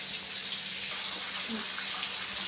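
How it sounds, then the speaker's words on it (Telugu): Water pours into a pan for cooking upma in a steady, continuous stream, a close hissing splash that holds evenly from start to finish. "నేను రెండు గ్లాసులు తీసుకుంటే ఐదు గ్లాసులు నీళ్ళు పోసుకోవాలి"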